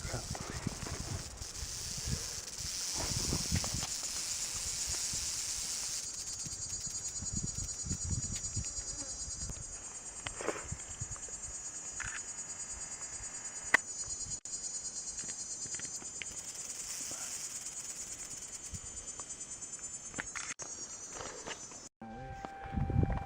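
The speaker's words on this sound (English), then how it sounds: "Those cicadas in the background sound like crap." Cicadas drone in a steady high-pitched buzz on a South Mountain hike in Arizona, continuous and fairly loud throughout, with scattered faint rustles and footsteps underneath.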